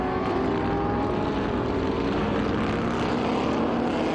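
Vintage race cars, including a Corvette and a Bizzarini, racing at Circuit of the Americas, a loud sustained engine drone with steady harmonic tones and no breaks.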